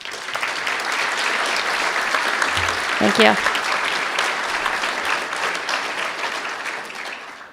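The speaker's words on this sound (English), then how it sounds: "Let's take this time to give everyone a round of applause," Banquet audience at a Martin Luther King Jr. celebration applauding steadily throughout, a dense wash of clapping with a brief spoken thanks partway through.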